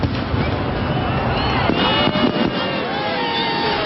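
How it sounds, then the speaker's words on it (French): Fireworks launched from the Vauban fortifications at the entrance to Petite France in Strasbourg for New Year 2000 crackle and pop loudly and continuously, with dense bursts and a low booming rumble throughout. "plusieurs feux d'artifice, dont celui-ci tiré des fortifications Vauban à l'entrée de la Petite France"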